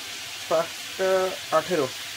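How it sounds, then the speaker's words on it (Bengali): Steady sizzling hiss of potatoes frying in a pan, with a few short voice sounds rising briefly above it. "রুটি বানাচ্ছি আর আলু ভাজছি"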